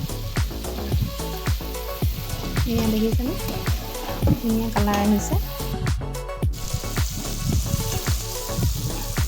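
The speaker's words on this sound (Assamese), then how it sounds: "অলপ দেৰি ভাজিব লাগিব।" Pieces of pork sizzle in a hot pan with coriander as the meat is stirred, giving a steady frying hiss broken by repeated scraping strokes while someone talks over it.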